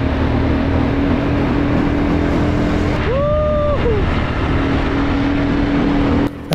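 An ATV engine runs near the listener in Paoay, Ilocos Norte, with a loud continuous rumbling drone and a brief rising tonal whine partway through before it settles back.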